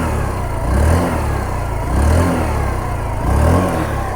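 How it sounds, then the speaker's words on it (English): Hero Xoom 125cc scooter engine with its exhaust note: a low, steady idle lifted by three short throttle blips, each a brief rev rising and falling, heard up close with no talking. "let me just make you guys hear the exhaust note also."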